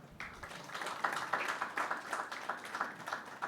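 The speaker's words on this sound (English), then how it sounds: "Please give him a round of applause" An audience at a state and city logistics planning conference in Gujarat applauds the Mayor of Junagadh with continuous, faint, even clapping from the hall and no talk over it.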